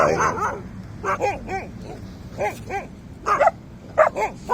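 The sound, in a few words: dogs barking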